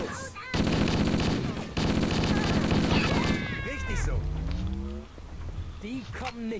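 Rapid bursts of gunfire in the video game Halo, loud and sustained for a few seconds, followed by chirpy electronic effects and a voice speaking.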